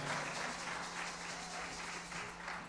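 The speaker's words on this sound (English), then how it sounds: "I don't know if you are clapping for the keyboardist." Audience applause fills a church crusade service in Toronto, steady and sustained throughout with a broad crackling wash of many hands clapping at once, fairly close and continuous without a break.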